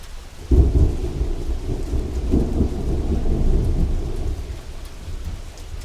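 Steady rain falls with deep rumbles of thunder rolling in, a sharp onset followed by sustained low booming beneath the constant patter, with no voices.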